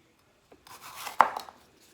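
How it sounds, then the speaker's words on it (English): A kitchen knife chops green peppers and onions on a cutting board: a faint early tap, a brief rustling slice, then one sharp, close chop followed by a few lighter cuts before quiet. "Let's get started with cutting up our veggies, the green peppers and the onions."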